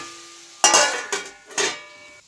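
A pumpkin curry cooks in a pan on a gas stove. Three separate bursts of stirring and sizzling rise over a quiet background, with no talk.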